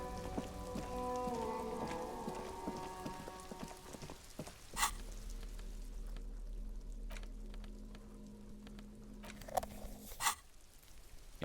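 Rain falls softly on surfaces in the video game Disco Elysium, a faint steady patter under low musical tones with a few sharp knocks, with no voices.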